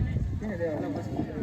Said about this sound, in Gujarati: પહેલો નંબર નાગરાજ ઘોડા ગમે ત્યાં દોઢ કિલોમીટર દોઢ કિલો દોડી